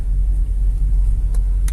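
Truck rumbling at a housing construction site in a Serpong Garden Village development, a steady close, loud low engine drone with no breaks.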